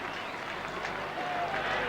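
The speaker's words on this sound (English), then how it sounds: "The crowd giving Olling a sympathetic hand" Crowd at a 1979 rugby league match between Parramatta and St George gives a sympathetic round of applause, a dense wash of distant clapping under a commentator's voice.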